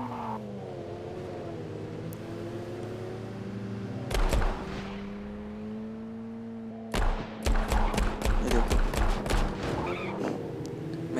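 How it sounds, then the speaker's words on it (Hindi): Gunfire from a car being driven in the video game Gangstar New Orleans: a steady engine hum carries throughout, broken by a single loud shot, then a rapid burst of about a dozen sharp shots near the end. "इस गेम पे एक अच्छी बात ये है कि आप गाड़ी चलाते हुए गन्स भी फायर कर सकते हो।"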